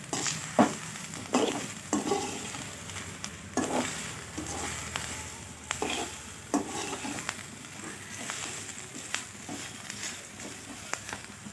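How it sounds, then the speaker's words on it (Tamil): Eggplant stir-frying in oil with chili powder, a soft continuous sizzle broken by repeated scraping stirs, faint and close. "அதே எண்ணெயில் அப்படியே பரட்டி கொடுத்துக்கலாம் கத்திரிக்காய் வேக வேக அதுவும் காரமும் சேர்ந்துக்கும்"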